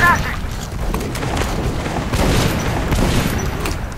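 Shotgun blasts from the video game Metro: Last Light ring out amid dense, loud gunfire and booms that fill the whole stretch, with heavy low rumble and sharp cracks layered over one another.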